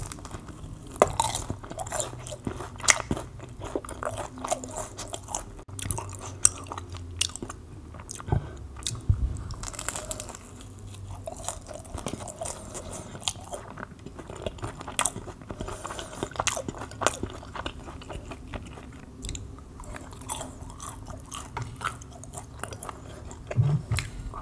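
Close, wet chewing and crunchy bites of veggie rolls dipped in sweet and sour sauce, Panda Express takeout eaten mukbang style, steady irregular mouth sounds throughout with no talking.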